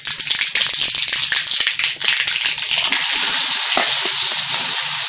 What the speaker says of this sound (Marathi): आता कांदा टाकून घेऊया आपण फोडणीमध्ये